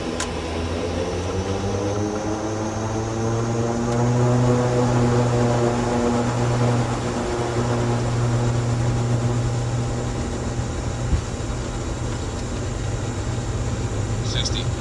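Icelandair Boeing 757 airliner on its takeoff roll, a steady loud engine drone with rising harmonic whine building across the whole stretch, while cockpit crew voices talk over it.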